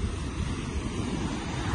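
Strong ocean waves roll onto a shore in Ilocos, a steady, loud broadband wash of surf with wind rumble and no distinct breaks, filling the whole stretch without talk.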